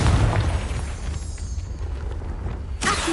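A Confringo fire spell bursts in Hogwarts Legacy, a deep booming explosion with a low rumbling tail that fades over a few seconds, followed by a sharp new burst near the end, with no talk.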